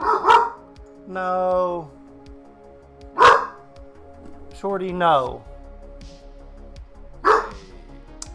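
Shorty the dog barks sharply a few times at close range, with yips between, while a voice scolds him.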